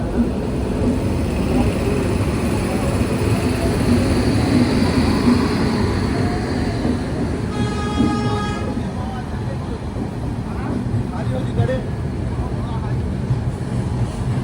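The Rapti Sagar Express pulls into Chennai Central station with a continuous rumble of rolling wheels and a brief tonal squeal or horn midway, while someone talks over it.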